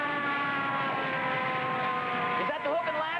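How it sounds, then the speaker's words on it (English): A fire engine passes nearby with a wailing siren, steady rising and falling tones over a low engine drone, close and continuous, bending in pitch near the end. "It's a fire engine."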